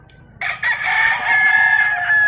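A gamefowl rooster crows at a backyard game farm in Compostela, Cebu, a single loud, close, sustained cock-a-doodle-doo heard alone.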